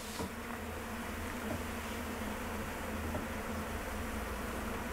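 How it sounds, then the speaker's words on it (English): Bees living inside an apartment building produce a steady, close, continuous buzzing hum with no pauses, carrying on evenly throughout with no voices present. "getting these bees removed today"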